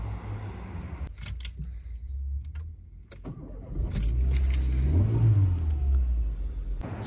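A Renault Clio is started up and revved, its engine settling into a low, steady idle and then swelling louder near the end, heard close up with a brief jangle of keys and a few handling clicks early on.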